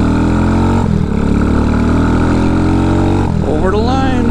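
An off-road motorcycle on knobby tires, its exhaust modified, roars loud and close, holding a steady drone before dipping and then revving up sharply in a rising whine near the end.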